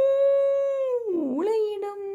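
A drawn-out fox howl, one long steady wavering tone that dips and rises near the end, loud and close with nothing else around it.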